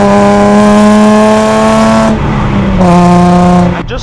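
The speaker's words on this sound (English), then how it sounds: "you put it in 5th gear, but without letting go of the clutch, you accelerate, and then you let go of the clutch whilst your revs are high" A Nissan 350Z's engine during a rev-matched downshift into fifth gear, heard up close and loud: a sustained high-revving drone, a brief dip as the throttle lifts, then a sharp rev back up before it cuts off.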